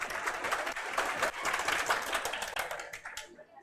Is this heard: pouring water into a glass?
no